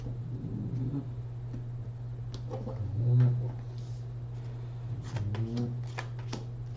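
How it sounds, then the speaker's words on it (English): Playing cards are shuffled in scattered, brief papery bursts against a steady low hum, with quiet handling noises between them. "One more shuffle."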